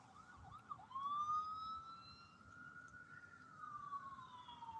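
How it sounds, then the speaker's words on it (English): Emergency vehicle sirens wailing in the distance, a rising and falling tone that sweeps up and then holds a long steady wail over faint road noise, fairly quiet and with no talking. "I hear sirens."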